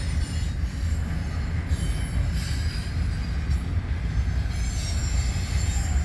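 Freight train with a mid-train DPU locomotive passing, a continuous rumble of rolling railcars with high wheel squeal and faint clatter, steady and fairly close.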